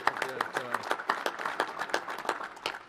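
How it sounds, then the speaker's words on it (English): Audience applause at a government advisory meeting of a national space body, with sharp claps and bursts of cheering across a few seconds while a voice carries on speaking over it. "you can give him a big round of applause as well"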